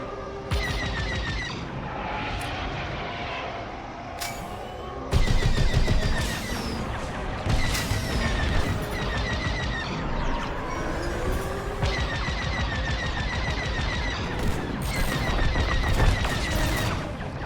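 Starfighter blaster fire at station turrets in the Star Wars Squadrons video game, rapid repeated zapping bursts over a rumbling engine roar, loud and close, with heavy booms joining partway through.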